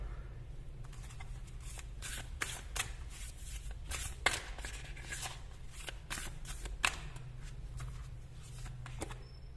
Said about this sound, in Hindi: कुछ और भी कार्ड्स हैं, निकालती हूँ फिर आपको बताती हूँ।